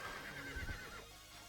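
A horse whinnies once in a short, clear neigh over the steady din of an Age of Empires-style strategy game battle.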